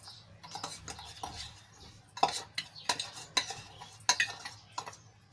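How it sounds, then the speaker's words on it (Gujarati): Raw gunda and mango pieces are mixed with pickle masala in a bowl, producing close wet squelches, spoon scrapes and sharp clinks against the bowl in an irregular rhythm, with no one talking. "કેરીમાં સરસ રીતે મિક્સ કરી લઈશું જેથી કરીને મસાલો બધો સારી રીતે કેરીમાં ભળી જાય"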